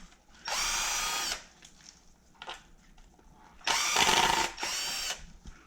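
Power driver whirring in two bursts while backing out 2.5 mm hex screws from a PPS-RC screw motor mount on an Arrma Mojave RC truck, loud and close with short quiet gaps between runs.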